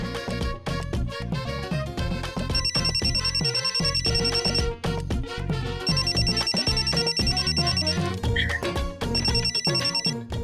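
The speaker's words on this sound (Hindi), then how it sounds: "मेरा फोन।" A loud, melodic phone ringtone plays continuously, its bright repeating tune filling the clip up close with no talking over it.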